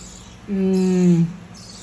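A pet bird gives a single drawn-out, tonal call lasting under a second, loud and close, with faint room background before and after.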